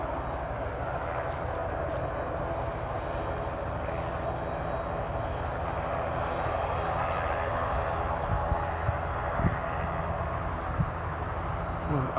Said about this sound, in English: I feel sure that the engine started going faster then, but it's plateaued, Borg.